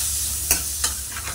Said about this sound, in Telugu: ఇప్పుడు బాగా వేపాలి.